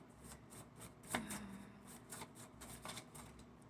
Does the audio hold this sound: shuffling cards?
yes